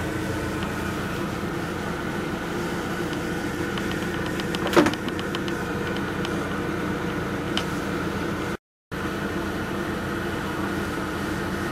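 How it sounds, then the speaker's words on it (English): A Tfal Actifry fryer runs steadily while cooking breakfast sausages, giving off a constant mechanical whir and hum, with a brief clatter near the middle and a short dropout later. "Breakfast sausages cooked in the Actifry."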